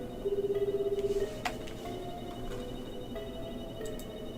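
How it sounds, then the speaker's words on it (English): A telephone rings in the video game 428 Shibuya Scramble, one short burst of electronic trills near the start. A faint background hum follows and no one speaks. "Phone rang before"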